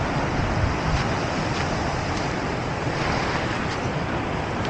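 Pacific Ocean surf at a beach makes a constant, dense hiss of breaking waves, with a slightly heavier rush near the start and no voices over it.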